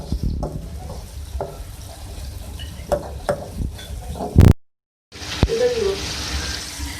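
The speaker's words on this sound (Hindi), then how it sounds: "हम थोड़ा सा कुक कर लेंगे, टमाटर को थोड़ा सॉफ्ट कर देंगे" Tomatoes cook in a pan with salt and ground cumin for masoor dal, with a low sizzle and repeated stirring scrapes, then a brief cut and a short burst of louder sizzling.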